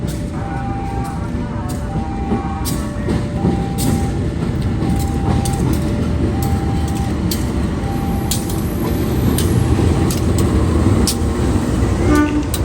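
A local train rumbles steadily at a station platform, with a low, loud drone and occasional clanks and squeaks of the carriages throughout.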